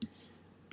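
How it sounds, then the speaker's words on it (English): A computer mouse gives a few quiet, sharp clicks during a craft-cutting design session, one at the start and a quick pair near the end, over faint background hiss. "right-clicking, and choose Group."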